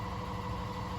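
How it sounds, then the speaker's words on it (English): A steady low mechanical drone from an air compressor in a truck repair shop, a constant hum running without pause as a continuous background noise. "sorry about the noise in the background. It's the air compressor."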